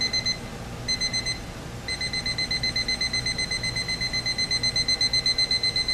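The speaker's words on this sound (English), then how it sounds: "and ascending 4-beep alarm," TimeWise metal case battery alarm clock sounding its beeping alarm, rapid high-pitched beep bursts that pause briefly, then resume and grow louder in a steady rhythm, close and alone.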